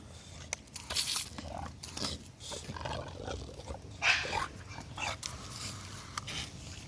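An American Bully dog nearby growls, snaps and whimpers amid crunching, scuffling noises in a yard, with sharp bursts of activity scattered over several seconds.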